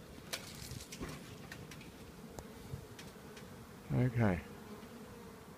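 Honey bees buzz at a wild hive in a tree in Perth, a faint steady drone with scattered ticks, a brief single word, and two short louder bursts near the end.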